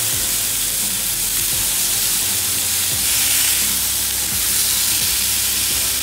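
Beef entrecote sears in a hot pan, a steady loud sizzle and hiss of fat running throughout, with no one talking.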